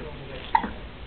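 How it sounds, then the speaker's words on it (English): A single small hiccup, one brief soft catch of breath amid quiet background noise, close by and faint. "Oh, that big hiccups."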